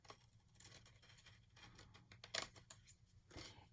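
Scissors trimming a paper card right to the edge in a card-making craft, a series of quiet close snips with one sharper, louder cut in the middle, no voices.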